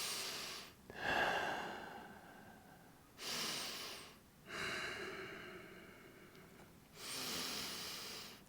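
Slow, deep breaths during a yoga cool-down, long airy inhales and exhales repeating in a steady rhythm, close and clear with no talking.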